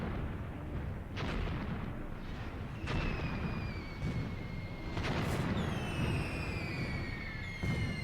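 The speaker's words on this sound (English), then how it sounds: "our artillery battery, that's the mortar battery, I think, begins with their strike at the bridge with HE" A mortar battery shells a bridge with high-explosive rounds in Graviteam Tactics: several distant booming impacts land at irregular intervals over a low rumbling bed, and whistling tones drift through part of the barrage.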